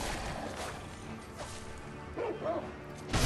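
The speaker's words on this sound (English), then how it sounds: "Oh, there's a pup." A dog in the video game Sekiro gives a few short, yipping barks at moderate distance amid low ambient game sounds.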